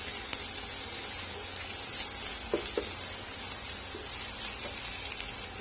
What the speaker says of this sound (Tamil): கொஞ்சம் ஒரு கண்ணாடி மாதிரி ஒரு பக்குவத்துக்கு வதங்குற அளவுக்கு இதை வதக்கிக்கலாம்.